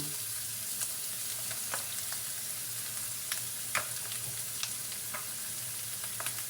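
Shrimp fry with plain rice in a pan for kiampong, a continuous soft sizzle broken by scattered scraping ticks of stirring, fairly quiet and steady throughout.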